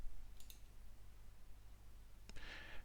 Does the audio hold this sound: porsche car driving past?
no